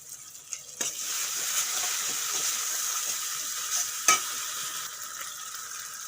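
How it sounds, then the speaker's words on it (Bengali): Cashew and melon seed paste frying in a pan, a continuous sizzle with a couple of sharp utensil clacks against the pan as it's stirred. "এখন দিয়ে দেবো কাজু বাদাম আর চাল মগজ বাটা"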